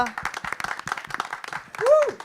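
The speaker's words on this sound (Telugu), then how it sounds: "ఒక్కసారి గట్టిగా చప్పట్లు" An audience at a song launch event claps together in a short burst of applause, sharp hand claps layered over a speaking voice.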